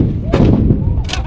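An M777 155 mm howitzer fires a single heavy boom with a rumbling low roar, and a second sharp crack follows about a second later.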